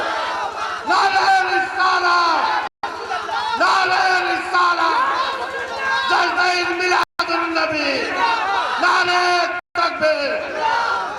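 A large crowd at a mushaira gathering answers with a loud, sustained chant of the takbir slogan, voices surging together in several long swells broken by brief gaps, dense and close with no single speaker standing out.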